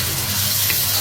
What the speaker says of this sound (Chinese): 泡菜炒香了，来点豆瓣儿